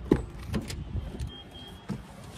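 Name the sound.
Tata Punch car interior sound when starting engine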